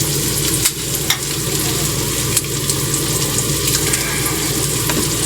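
Garlic cloves fry in a pan alongside steak, giving a steady, dense sizzle with a few faint clicks of stirring throughout.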